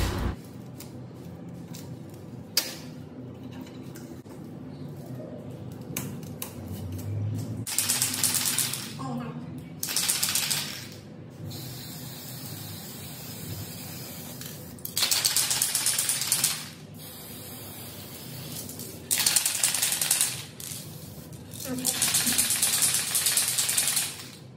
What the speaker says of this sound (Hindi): उसके बाद आपको स्प्रे करना है